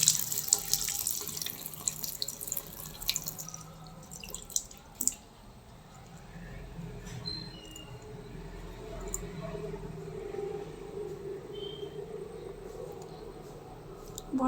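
Cut botboti beans are washed by hand under a running kitchen tap, with water splashing and trickling steadily into a sink and a few sharper clinks and drips up close.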